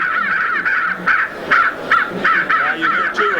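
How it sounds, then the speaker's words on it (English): A recorded crow call plays in a quick series of harsh, loud caws in a fairly regular rhythm, about ten in all, with short gaps between them. "He goes for a while by himself, and then he's joined by another crow."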